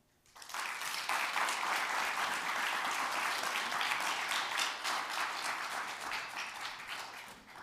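Audience applause at a tech summit starts abruptly and carries on as steady, dense clapping from a sizeable crowd, tapering slightly toward the end.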